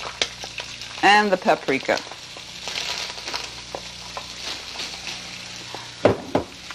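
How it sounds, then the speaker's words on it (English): Diced potatoes sizzle and crackle steadily as they drop into hot oil over medium-high heat, seasoned with paprika, with stirring clatter and a few sharp spatters, while someone talks over the frying. "All right, our oil is ready. You hear it? We're going to add our potatoes"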